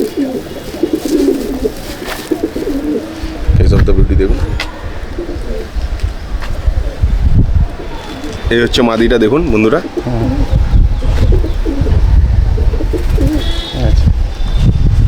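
Champion Madrasi pigeons in a loft, soft throaty coos and rustling wings close by, someone talking over them through most of the stretch.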